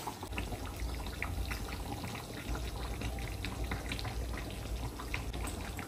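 Tea simmers in a pot on a home kitchen stove, a faint steady bubbling and hiss running unbroken without speech.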